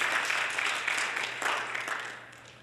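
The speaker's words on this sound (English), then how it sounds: "Give Mr. Durant a round of applause for the excellent work that he has done as well." An audience applauds a speaker at an event tied to Virgin Islands sloop building, a steady wash of clapping that gradually fades over a few seconds.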